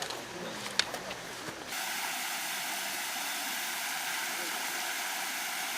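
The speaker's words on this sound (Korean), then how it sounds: "발걸음을 재촉하게 하는 물소리." The stream and waterfalls along the Gangcheonsan trail make a steady, broad rush of flowing water that starts in suddenly after a few quiet, scattered noises and holds at an even level.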